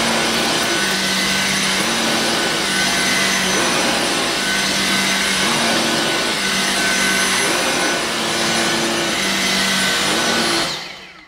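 A Dyson V6 Fluffy cordless vacuum on its maximum setting cleans carpet with a loud, steady, high-pitched whine and a faint pulsing hum, then it cuts off abruptly at the end.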